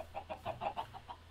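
Chickens in a Minecraft game cluck in a quick series of about seven or eight short, evenly spaced clucks over a faint low hum, with no talking.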